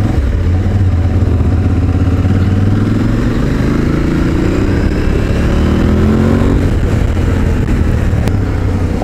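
An Aprilia Tuareg 660 motorcycle on a road test ride, its engine loud and close throughout, with a continuous drone and rising and falling revs as it accelerates, plus wind rush.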